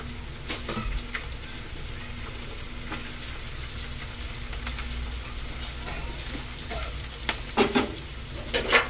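Mushrooms frying in a pan for carbonara, giving a steady sizzle with occasional stirring scrapes and pops, close and continuous, with no talking.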